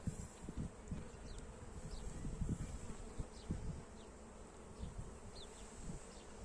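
Honeybees buzz around an open hive during a colony inspection in Burdur, a dense steady hum with individual bees passing close by, plus faint handling knocks and no talking.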